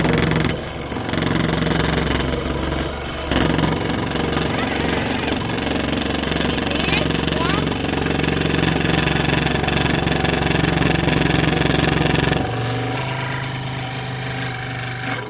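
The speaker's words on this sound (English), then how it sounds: "me using the scroll saw for the first time" A scroll saw cuts on a DIY patio project with a loud, steady, harsh buzzing drone that runs almost nonstop before dropping to a lower hum near the end, with a voice briefly audible.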